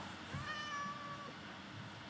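A black cat meows in the Minecraft video game, one drawn-out tonal call rising and fading over about a second against a steady low game ambience, with no talking.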